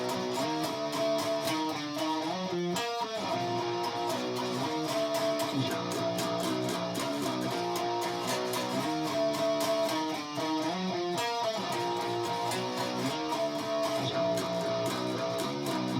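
Electric guitar plays a riff at a slow tempo, a continuous run of picked notes and chord stabs, dense and steady throughout, close with no talk.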